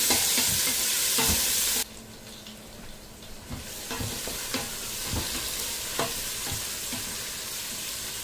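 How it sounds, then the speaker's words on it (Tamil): Chopped large onions and cumin sauté in a hot pan with a steady, loud sizzle. Spatula scrapes and stirring strokes come at irregular intervals, and the level drops sharply early on before the frying continues. "இனி வெட்டி வச்சிருக்கிற பெரிய வெங்காயத்தை சேர்த்துக்கொள்ளுங்க. சீரகத்தை எரிய விடக்கூடாது. சேர்த்து எல்லாத்தையும் வதக்கி கொள்ளவும்."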